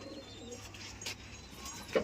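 A male Punjabi pigeon gives soft, low cooing calls nearby, with a brief louder burst near the end over a quiet background.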